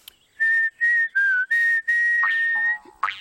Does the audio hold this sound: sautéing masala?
no